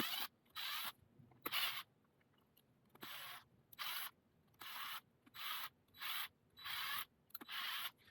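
Bolts on a 13,000 lb 4WD winch are turned loose by hand during a teardown. Short bursts of dry ratcheting, scraping metal repeat about eight times with quiet pauses between them. The sound is close but soft, and there is no talk.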